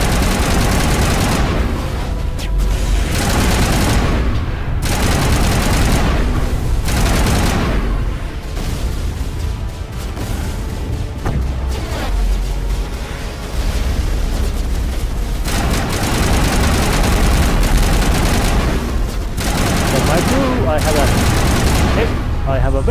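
Rapid, sustained gunfire aimed at a dropship in the video game Mass Effect, with dense bursts and booms continuing loudly for the whole stretch while someone talks over them.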